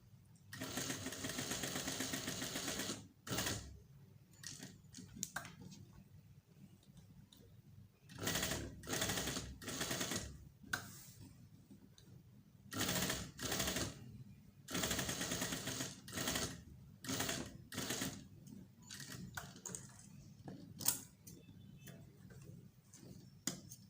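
A sewing machine stitches the sleeve seam of a shirt. It runs in repeated short bursts separated by pauses, faint and fairly close, with the motor whirring in rhythmic spurts.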